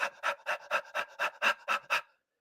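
An extreme bully-type bulldog pants in a quick, steady rhythm: eight close, even breaths in about two seconds, then silence.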